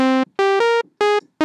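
Sawtooth wave tones from a Thor synth oscillator, a quick run of short bright buzzy notes at shifting pitches with brief gaps between them.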